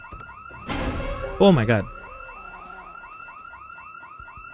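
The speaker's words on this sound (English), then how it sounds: "That was a car alarm." A car alarm in the zombie survival game Project Zomboid wails in a steady repeating up-and-down pattern throughout, with a brief startled voice exclaiming over it midway.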